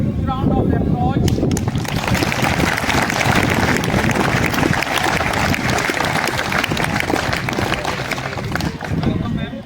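Loud, close applause from an audience in a school hall welcoming a soft tennis silver medalist, dense and continuous throughout with a rough, noisy texture.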